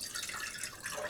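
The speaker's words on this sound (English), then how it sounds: "just pour the kefir through and catch your kefir grains" Water kefir is poured from a container through a strainer into a jar, making a soft, continuous splashing trickle close by, with no voices.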